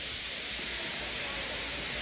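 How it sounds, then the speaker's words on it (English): A steam engine feebly letting off steam, a steady soft hiss that is even and unbroken for the whole moment. "He just let off steam feebly."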